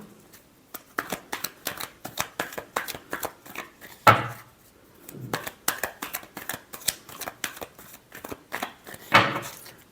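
Tarot cards being shuffled by hand in a quiet room, a rapid run of crisp riffling slaps and flutters with two louder bursts where the deck is bridged or squared, close and alone with no talk.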